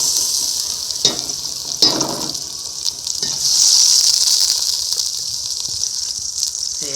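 Hot ghee sizzles and spits in a pan during home cooking, a close hiss with sharp crackling bursts and spatter that swells midway and keeps going.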